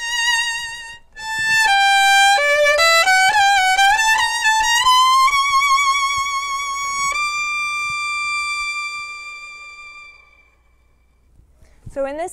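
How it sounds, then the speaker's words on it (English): A bowed string instrument plays a solo phrase ending on a long D played with an overshape, the tone tapering and dissolving away; close and unaccompanied, the last note fades out before a brief bump of noise at the very end. "But by putting an overshape on the final D, it's easy to make the sound dissolve and connect to the orchestra's entrance."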